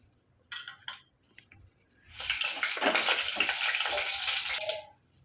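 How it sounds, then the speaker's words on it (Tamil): Mustard seeds and urad dal spluttering in a hot pan of oil for a chutney tempering, a few brief crackles and then a dense, loud, steady sizzle lasting a few seconds, close up with no talking. "இப்போ கடுகு உளுந்தம்பருப்பு பொரிஞ்சிருச்சு."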